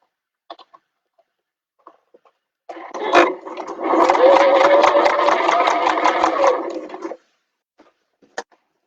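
A sewing machine stitching a bag runs steadily for about four seconds at close range, with a few faint clicks and handling noises before and after.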